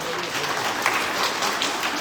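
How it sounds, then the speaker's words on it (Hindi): A political rally audience in Sujangarh applauds in a steady, dense wash of clapping that holds at an even level. "अभी बड़ी तालियां बज रही थी जब संतोष जी कह रहे थे"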